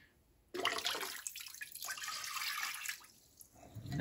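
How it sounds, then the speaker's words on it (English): Leftover liquid cleaner is poured from a cup into a toilet bowl, a steady splashing trickle that starts abruptly and runs for about three seconds before tapering off. "I'm just gonna pour out a cup of that into the toilet bowl."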